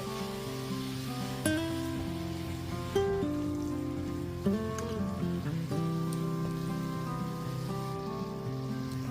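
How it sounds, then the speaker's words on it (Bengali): Grated carrots fry in a pan over a medium flame for carrot halwa, giving a steady, soft crackling sizzle throughout, with faint tonal sounds in the background. "গ্যাসের ফ্লেমটা মিডিয়ামে রেখে একটু সময় নিয়ে গাজরগুলোকে ভেজে নেব"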